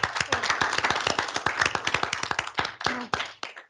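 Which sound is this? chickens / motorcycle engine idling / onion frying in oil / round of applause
round of applause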